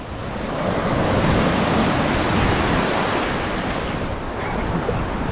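Ocean surf rolls steadily onto Tyrico Beach on the North Coast Road after Maracas, a loud, continuous wash of breaking waves mixed with wind noise on the microphone and no speech.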